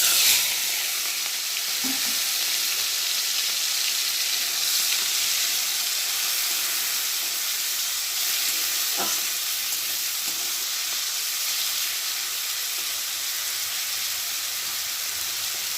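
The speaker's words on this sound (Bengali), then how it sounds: "আর এখন আমি কড়ার মধ্যে নুন হলুদ মাখা চিংড়ি মাছটা ঢেলে দিয়ে ভালো করে ভেজে নেব" Salt-and-turmeric-marinated prawns frying in hot mustard oil in a wok give a steady, loud, close sizzle that runs unbroken, with a few soft clinks of stirring and no voices.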